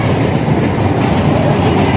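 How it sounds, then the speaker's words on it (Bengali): A train rolls past close by on its way into Rampurhat station, a loud, steady rumble and rattle of wheels that holds throughout. "এই ট্রেনটা যাচ্ছে, রামপুরহাট স্টেশনে ঢুকবে"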